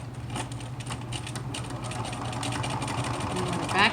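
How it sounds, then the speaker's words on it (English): A domestic sewing machine stitches close to the edge of a fabric face mask, a steady whirring hum under a woman's speech. "Go ahead and stitch as close to the edge as you can."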